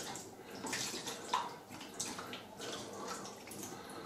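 Running water rinsing out the inside of a dishwasher being cleaned, a steady, fairly quiet splashing and gurgling flow lasting a few seconds with no speech.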